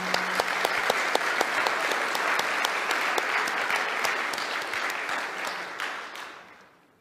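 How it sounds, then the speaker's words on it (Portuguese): A large audience applauds at a corporate event for an asset management company, dense steady clapping that holds strong for several seconds before tapering off and fading near the end. "Let's applaud once more to greet each other."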